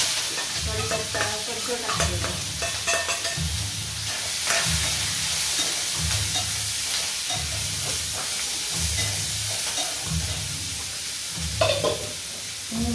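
Onion, tomato and green chili frying with urad dal for upma sizzle steadily while a spoon stirs the pan in regular scraping strokes, close and continuous.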